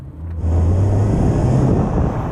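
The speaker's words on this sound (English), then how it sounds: "there's a disadvantage of having that engine behind you because it just drones on in your ear hole" A loud, low mid-engine Toyota MR2 first-generation sports car engine drones steadily from inside the vehicle, behind the seats, settling into a constant rumbling hum after a brief quieter start.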